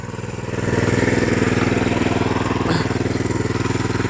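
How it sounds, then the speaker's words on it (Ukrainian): A motoblock walk-behind tiller engine runs loud and close with a steady, pulsing mechanical chug after a brief rise at the start, churning through wet soil with no voices heard. "Беремо мотоблока і робимо легке взрихлювання в землі."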